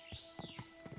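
Horse hooves clip-clop at a gallop in Kingdom Come Deliverance 2: a steady run of close, thudding beats, about six strikes in just over a second, loud and alone.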